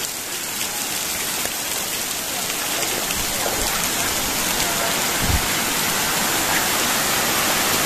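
Steady, loud rain falls on a trip through Lumajang, a dense unbroken hiss with a few dull thumps of drops, heard alone with no talk.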